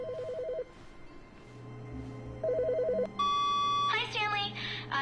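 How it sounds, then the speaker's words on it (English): A video game telephone rings in short repeated electronic trills, first alone, then with a brighter tone and chirpy sound effects near the end, with a voice talking briefly in between. "Is that a phone?"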